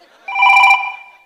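A telephone rings once during a Kannada comedy stage skit, a single loud, steady bell-like tone swelling for about half a second and then fading out.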